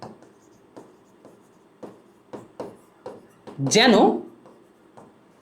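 Short, distinct scratching strokes of writing on a board during a geometry lesson come in an irregular series, with a teacher speaking briefly partway through.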